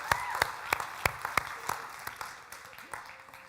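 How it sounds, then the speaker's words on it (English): A small audience at a Black History Month community gathering claps, sparse and fairly close, with individual sharp claps standing out, then thins toward the end while voices carry on. "let's give her another round of applause."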